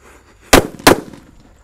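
Two sharp, loud bangs about a third of a second apart burst from a happy flower firecracker lit from inside the ground, each cracking out and fading quickly, with no talk.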